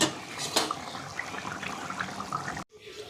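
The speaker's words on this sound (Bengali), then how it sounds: "সোয়াবিনের তরকারি আমাদের রেডি এবার গাবলায় ঢেলে আমাদের দেখাই" Soybean curry is poured from a pan into a bowl, giving a close wet slosh and clatter of metal utensils that stops abruptly near the end.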